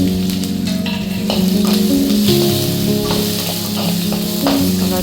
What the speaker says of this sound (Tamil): அப்புறம் பெருங்காயம் சட்டிகை தாளிப்பு வந்து கருவேப்பில ஒரு பொட்டு ரெண்டு காப்பி மிளகா ரெண்டு பச்சை மிளகாய்